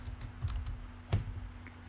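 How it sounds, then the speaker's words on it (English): Irregular, light clicking of keys on a computer keyboard, a few quick taps and one firmer press over a low steady hum. "For some reason I'm having difficulty typing"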